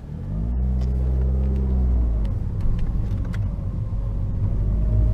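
A Fiat Abarth 500 engine revs and accelerates onto a freeway, the pitch rising then settling into a loud, steady road rumble from inside the cabin.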